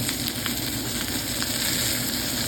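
Steak sears in a hot pan with a loud, dense, steady sizzle and crackle that runs unbroken throughout, close up and with no voices.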